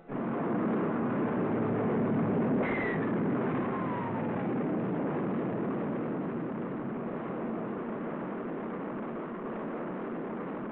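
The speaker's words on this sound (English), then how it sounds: "The rocket performs perfectly as it lifts the funnel-shaped capsule gracefully aloft." Archival 1961–62 tape of a Mercury rocket launch lifting a funnel-shaped capsule, heard inside Call of Duty Warzone as a steady, muffled, band-limited roar that stays dense and even for about ten seconds with a brief whistling sweep early on.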